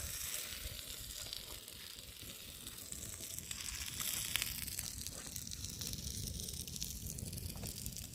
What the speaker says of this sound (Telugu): ఒక పక్క లివర్ ఫ్రై ఒక పక్క చపాతి